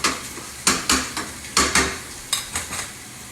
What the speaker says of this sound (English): I add the wine at the last minute. The wine is going to cook down.